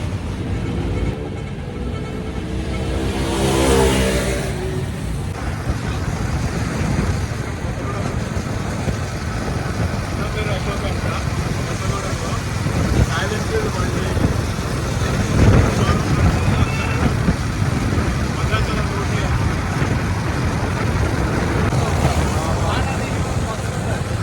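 A Royal Enfield motorcycle on a test ride outside Bhadrachalam carries a passenger, its engine a steady loud rumble blended with rushing wind and road noise throughout, with some speech over it.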